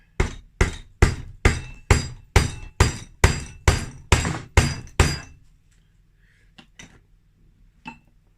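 A Honda CR engine case gets tapped apart during a bottom-end teardown: about a dozen sharp, evenly spaced knocks ring out up close, then a few scattered softer clinks follow.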